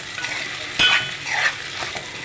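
Garlic paste hits a pan of frying onions and drumstick pieces, bringing a brief burst of sizzling and a scrape of stirring over a steady frying hiss, with no voices.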